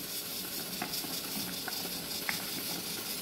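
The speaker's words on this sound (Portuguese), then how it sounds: "Enquanto o macarrão está aqui cozinhando" Whole pasta cooking in a pot on the stove, a steady soft hiss and bubbling simmer with occasional light ticks, close but fairly quiet.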